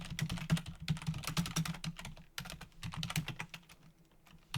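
Rapid, uneven typing on a computer keyboard while writing code, close and crisp, with quick bursts of keystrokes and brief pauses, no voices.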